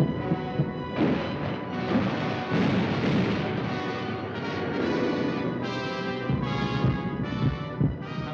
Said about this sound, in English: gunfire in the southeast